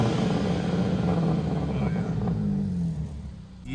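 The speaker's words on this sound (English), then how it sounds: "Hey, give him a quick rev," Kia Stinger with bolt-on modifications idling with a deep, steady rumble that swells slightly in a quick rev, close and loud, then settles near the end.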